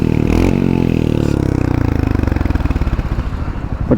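A 2026 Royal Enfield Hunter 350 single-cylinder engine thumps loudly and close, its steady beat rising in pitch and speeding up as the motorcycle revs, with no voices over it.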